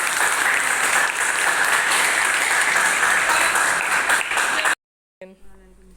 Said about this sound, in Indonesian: Terima kasih, tepuk tangan bagi kita semua.